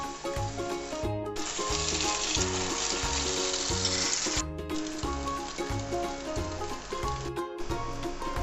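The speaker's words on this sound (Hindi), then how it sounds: "एक दफ़ा फिर हम थोड़ा सा घी डालेंगे और नए सिरे से हम बनाएंगे फ्रेंच टोस्ट।" French toast frying in ghee in a pan gives a steady, loud sizzle that runs throughout with continuous crackling and no talk, while music plays beneath it.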